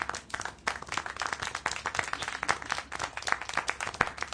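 Steady, dense clapping from several hands, as applause in the video game Syberia: The World Before, continuing evenly throughout at moderate level.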